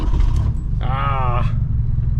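An abandoned 1972 Ford Pinto Runabout engine cranks on its starter, a steady low churning rumble running throughout, with a voice briefly speaking over it.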